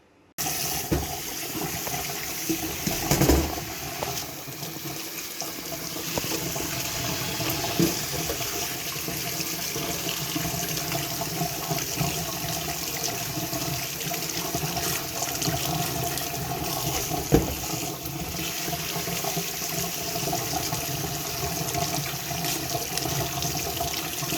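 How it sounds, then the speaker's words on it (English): Tap water runs steadily into a sink as a desktop computer part is rinsed off, a continuous close gushing and splashing that lasts throughout with no talking. "I might just go give it a quick rinse off"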